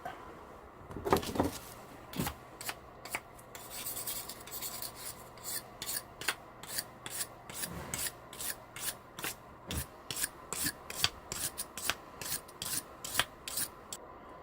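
A wire brush scrubs rusty metal after a non-acidic rust remover treatment, giving a series of short rasping strokes in an irregular rhythm, close and fairly quiet, with no talk.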